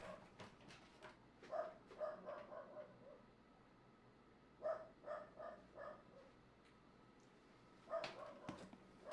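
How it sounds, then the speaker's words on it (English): A dog barks somewhere in a quiet room, a few short yappy bursts spaced apart, fairly faint and distant, with no talking over it. "My dog is barking, sorry."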